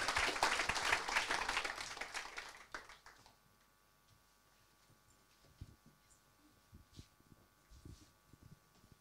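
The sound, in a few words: audience applause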